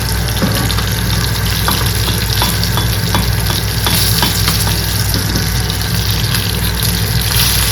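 Fish half deep frying in hot oil, a loud, steady, crackling sizzle that runs throughout with small bubbling pops and occasional scrapes of stirring, no voices.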